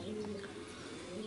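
Racing pigeons in a Romanian loft coo with low, steady, overlapping murmurs, close by and continuous, with faint chirps above the drone.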